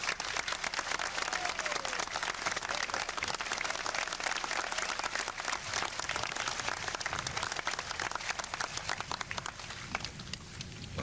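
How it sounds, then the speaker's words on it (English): At a 1997 high school commencement, the crowd gives the graduating class a long, sustained round of applause, with dense, continuous clapping that holds steady and starts to thin near the end. "Let us give them right now their official round of applause."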